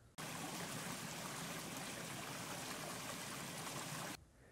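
Roaring flow of the Seti River stream near a riverside settlement in Pokhara, where sand is dug from the water; a loud, steady broadband rush holds unbroken for about four seconds, then cuts off abruptly.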